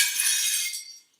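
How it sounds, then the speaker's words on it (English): A plate smashing gives a single bright crash of breaking ceramic, close and sharp, with the shattering noise decaying to silence within about a second. "It says here it's a plate smashing."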